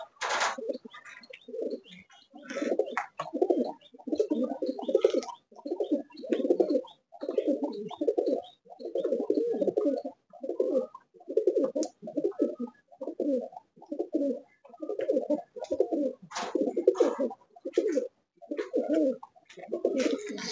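Giribaj pigeons in a loft in Garia, Kolkata, coo in a steady run of repeated throaty phrases, close and clear, with a few faint chirps and no talking.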